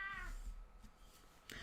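A house cat lets out a short meow at the start, fairly faint and close indoors, followed by quiet room noise and a brief soft rustle.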